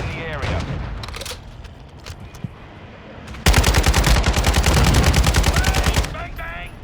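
Gunfire in Call of Duty Modern Warfare 2 Ground War: a few scattered shots and muffled game noise with voices, then a loud sustained rapid burst of automatic fire for about two and a half seconds before it stops.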